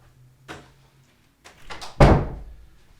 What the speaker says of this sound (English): Gotta close the door